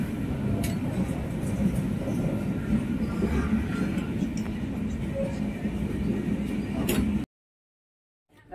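Passenger train heading to Dibrugarh, heard from inside the carriage: a steady low rumble and rattle of the moving coaches runs for about seven seconds, with faint voices mixed in, then cuts to near silence.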